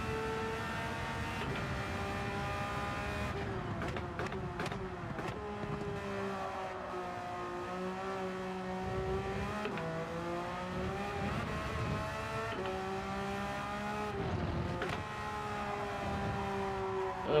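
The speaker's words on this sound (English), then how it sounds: "let's rev it a little bit more." Race car engine in Gran Turismo 7, revving and shifting through gears with rising and falling pitch sweeps, steady and close, the engine note alone without talk.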